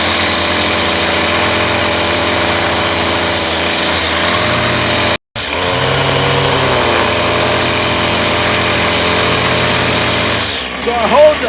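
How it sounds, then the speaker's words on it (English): A loud, close string trimmer whine runs continuously while edging a lawn, briefly cutting out and restarting, with a rising buzzy pitch change near the end. "So I hold the Weedeater in a position where the line is barely touching the top of the grass"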